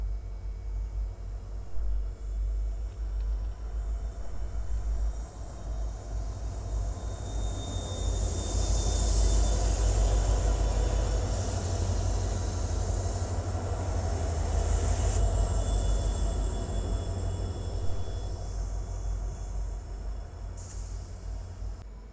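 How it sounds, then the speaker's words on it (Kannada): The Shalimar–Vasco Amaravati Express rolls into platform three at Londa Junction, a long rumbling approach of wheels on rails that swells in the middle, with squeals and hisses from the brakes. "ನಮ್ಮ ಟ್ರೈನ್ ಅರೈವಲ್ ಆಗತೈತಿ Londa ಜಂಕ್ಷನ್ಗೆ Londa junction platform number ಮೂರರಲ್ಲಿ ಎಂಟ್ರಿ ಆಗ್ತಾಯಿದೆ"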